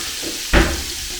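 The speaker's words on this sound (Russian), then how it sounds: "Обжарю муку, чтобы она не пахла в подливке." Steady sizzle of flour frying in an old skillet, with a sudden louder burst of crackle partway through, then settling back to a low hiss.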